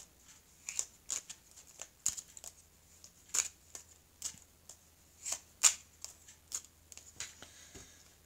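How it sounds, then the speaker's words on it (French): Oracle cards being shuffled by hand in a quiet room, a run of soft papery riffles and flicks at an irregular, close rhythm, with no voice over them. "Donc, je vais mélanger les cartes ici."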